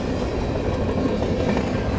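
Freight cars from a train passing on rails near a layout-watching spot, a steady continuous rumble with low rolling clatter, loud and close throughout with no talk.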